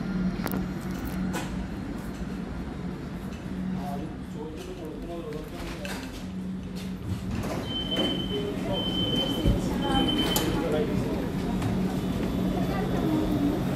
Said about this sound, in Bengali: ট্রেন চলে আসছে, এখন ট্রেনে উঠবো।